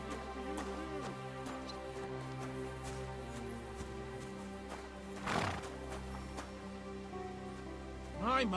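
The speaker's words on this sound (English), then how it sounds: "My, what a beautiful horse!" A horse in the medieval video game Kingdom Come: Deliverance 2 gives a loud whinny partway through, with hooves clip-clopping and a constant low musical drone underneath.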